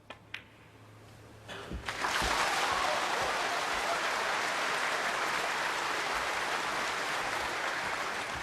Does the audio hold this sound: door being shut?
no